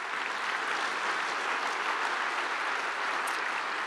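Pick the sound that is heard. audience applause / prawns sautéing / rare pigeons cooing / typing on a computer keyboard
audience applause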